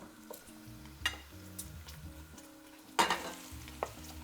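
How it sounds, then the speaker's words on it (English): Onion and celery sizzle in rendered bacon fat for a Boston clam chowder, with steady frying crackle under clattering stirring and a few sharp utensil knocks against the pot. "Now we add the veggies, and do not, I repeat, do not throw out fat."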